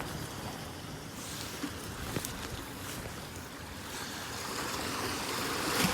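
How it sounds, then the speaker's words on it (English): Sea waves washing over the rocks at Filey Brigg, a loud broadband wash and surge that builds toward the end, mixed with wind, no voices. "There's always that one rogue wave that comes and soaks you."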